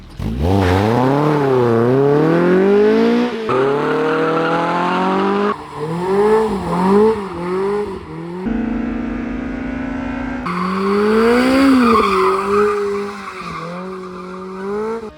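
A car engine revs and races with wavering pitch, tires squealing and skidding in loud, close, repeated sweeps.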